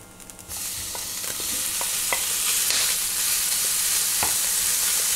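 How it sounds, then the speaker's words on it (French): Lardons hit a greased pan and start sizzling steadily after a brief quiet moment, the frying hiss holding close and even with light stirring ticks throughout. "On va pouvoir y verser les lardons."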